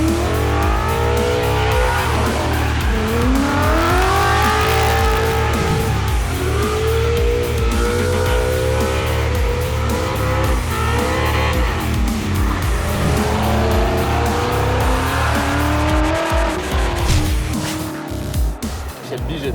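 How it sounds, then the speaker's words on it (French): A Ford Mustang Shelby GT350 on a track revs hard and burns its tires, engine pitch rising and falling repeatedly over loud tire squeal, close and continuous. "C'est quasiment triste de brûler des pneus comme ça."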